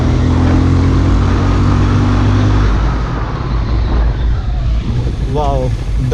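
A Benelli Imperiale 400 motorcycle slows under a braking test: a loud engine and wind roar that eases partway through as the bike decelerates, with road noise continuing after.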